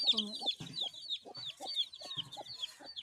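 Country chickens cluck in a steady, irregular patter, several birds calling close by with short repeated clucks and higher squawks.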